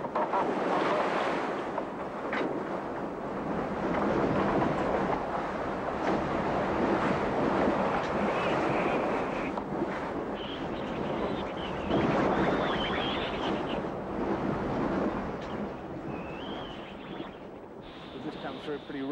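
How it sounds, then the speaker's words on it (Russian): Strong wind at sea roars continuously aboard a racing yacht in the Whitbread Round the World Race, with waves and surf rushing steadily beneath and loud wind buffeting the microphone throughout. "Ветер очень сильный."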